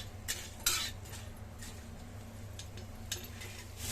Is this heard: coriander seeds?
yes